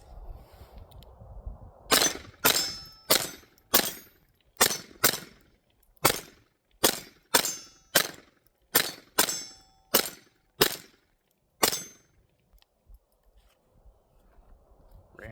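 Taurus TX22 pistol firing Aguila standard velocity 40 grain ammunition: a string of about eleven sharp, loud shots at a steady, slightly uneven pace, with a short gap before the final shot and no talking.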